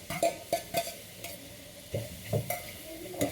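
Mint leaves sauté in a pan with a soft sizzle while a spoon stirs and scrapes in irregular strokes, heard close and fairly quiet with no talking.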